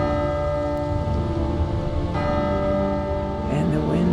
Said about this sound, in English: Okay, the bells ring.